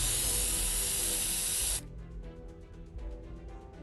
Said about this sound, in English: He thinks for a moment, then squints and pulls out a can of red spray paint.